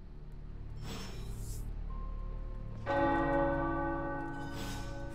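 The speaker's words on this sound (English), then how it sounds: "The tower bells are ringing." Church tower bells ring in the video game Marvel's Midnight Suns, a loud resonant strike whose tones hang and fade, then a second, fuller peal sounds midway, while soft whooshing effects pass over them.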